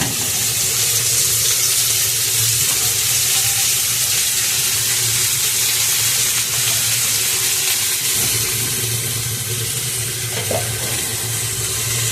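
Chopped sweet pumpkin greens go slowly into a pan of spiced potatoes, bringing a steady, close sizzle of frying with faint stirring and water-like crackle throughout.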